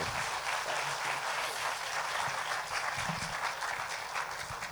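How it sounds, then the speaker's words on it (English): An audience at a talk on Delhi's history welcomes historian Swapna Liddle with a full, even round of applause, dense and steady throughout at moderate volume. "So please, a big round of applause for Swapna Liddle"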